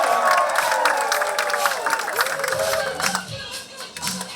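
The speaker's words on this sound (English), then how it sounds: "give her a big round of applause as we welcome the Earth's first Martian rap artist" An audience applauds and cheers to welcome a rap artist onstage, a dense, steady wash of clapping with whoops rising over it, continuing at full strength throughout.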